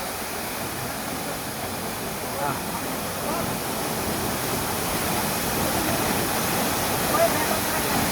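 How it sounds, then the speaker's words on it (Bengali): A mountain waterfall pours continuously in light rain, producing a loud, even, broadband rushing roar that holds steady from start to finish. "ঝর্ণার শব্দ"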